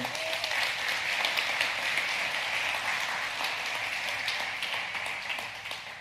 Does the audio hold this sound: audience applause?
yes